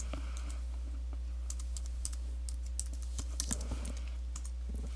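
Typing on a computer keyboard, with quick, light key clicks in irregular bursts over a steady low hum, close and fairly quiet.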